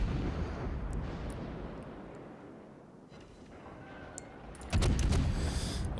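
Salvo fire from a Des Moines cruiser's main guns in World of Warships, a rumbling roar of battle with a loud burst of blasts near the end over a low, continuous din.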